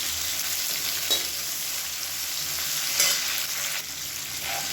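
Sliced big onions sizzling in hot oil in a pan, a steady, close, loud frying hiss with a few faint stirring scrapes, no talking.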